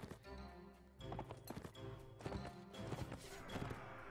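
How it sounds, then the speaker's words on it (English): Horse hooves clatter in a Mount and Blade battle, a rapid uneven clip-clop mixed with thuds and clashing impacts, moderately close amid busy game noise. "That's a horse."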